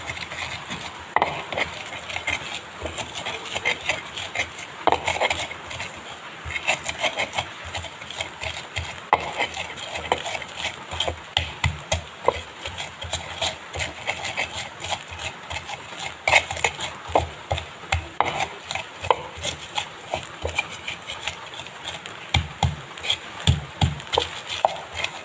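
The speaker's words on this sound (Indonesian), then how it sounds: "kemirinya 5. Tuh mau saya ulek dulu ya guys ya." Five candlenuts ground in a stone mortar and pestle for spiced chicken lodho, with irregular grinding scrapes and knocks running throughout, steady but moderately quiet.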